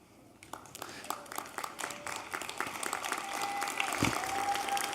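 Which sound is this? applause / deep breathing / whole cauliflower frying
applause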